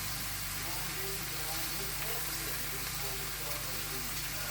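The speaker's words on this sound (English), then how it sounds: "So we're going to let that saute for a minute." Squash sautés in a skillet over medium-high heat, giving off a steady, even hiss of sizzling that runs without a break, with a low hum beneath and a voice faintly present.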